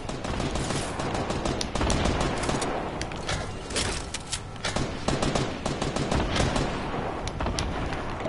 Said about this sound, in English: Bro, they're shooting at me.